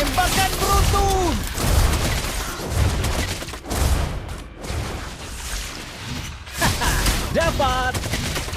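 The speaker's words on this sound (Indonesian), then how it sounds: "Tembakan beruntun!" A rapid gunfire barrage from Claude's skill in a video game, dense loud bursts of shots rolling over several seconds, with shouted voices at the start and end.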